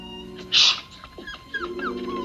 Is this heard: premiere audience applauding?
no